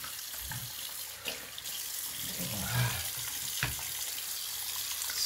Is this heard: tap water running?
yes